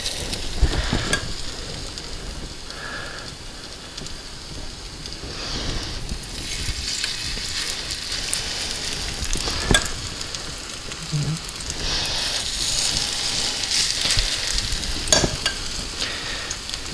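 Dumplings frying in a hot pan give a steady, fairly loud sizzle and crackle throughout, with occasional scraping and stirring clicks from a spoon.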